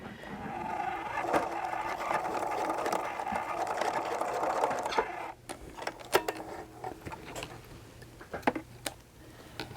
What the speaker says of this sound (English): take your time since you're sewing over the zipper teeth